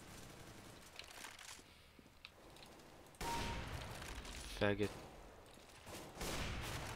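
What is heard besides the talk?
gunfire in the video game CS:GO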